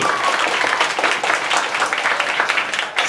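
A group applauds a prize winner, steady, fairly close clapping from many hands that runs throughout without pause.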